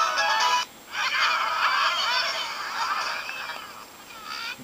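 Cartoonish bird calls from a mobile video game, honking goose-like squawks in short bursts, a brief one followed by a longer warbling run and a final short call, fairly faint.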